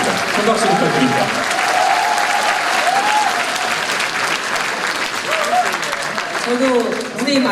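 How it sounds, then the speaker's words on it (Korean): An audience at a Democratic Party talk-concert gives a presenter a big, sustained round of applause, dense and loud from start to finish, with voices calling out over the clapping. "큰 박수 부탁드립니다"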